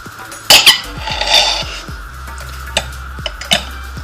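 An ordinary steak knife scrapes and taps against a grill pan while cutting a grilled portobello mushroom, with a sharp metallic clack, faint sizzling and a few light utensil clicks, close and fairly loud, no speech.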